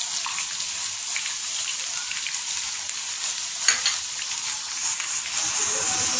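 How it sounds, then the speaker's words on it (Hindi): Chopped onions fry in oil in a pan, cooking toward golden: a steady, dense sizzle and crackle holds level and close throughout, with a few brief louder pops and stirring scrapes, and no voices. "हमें इसको इतना फ्राई करके इसका हल्का गोल्डन कलर आ जाए।"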